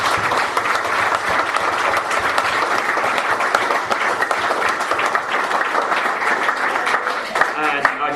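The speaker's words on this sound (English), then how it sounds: "We give a round of applause to Paul" Crowd at a live show at the Bunkers Hill Inn applauding Paul, loud sustained clapping from many hands close by, with voices talking over it and a brief shout near the end.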